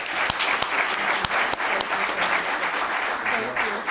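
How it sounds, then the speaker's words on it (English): A small audience at a city council meeting claps for staff members, a dense burst of hand claps at a steady, fairly loud level over the whole stretch. "I just want to give a round of applause to these 2 and your 2 staff"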